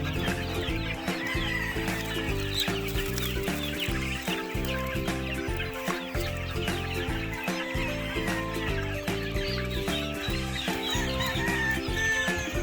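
Gamefowl chickens about one month old cluck and call continuously from breeding cages, a busy chorus of overlapping clucks and occasional crowing at close range with no talking.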